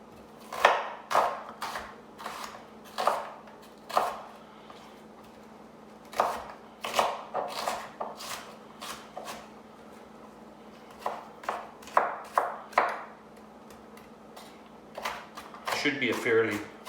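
A knife finely mincing half an onion on a cutting board, heard as irregular bursts of quick, crisp chops separated by pauses, fairly close and moderately loud.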